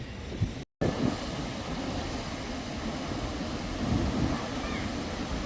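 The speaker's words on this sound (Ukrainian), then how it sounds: "Гарне море." Sea waves and surf break along the Black Sea shore at Odesa, a continuous loud wash of water with wind noise, briefly cut out by a short dropout near the start.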